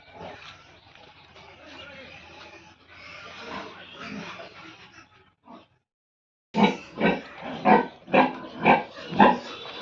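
Duroc and Landrace pigs on an Assamese pig farm grunt and oink, quieter at first with people talking, then a close run of loud rhythmic grunts after a short silence.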